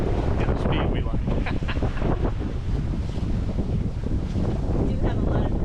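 Loud wind buffeting the microphone aboard a sailboat between Carriacou and Bequia, a constant roaring rush with gusty bursts and water noise beneath.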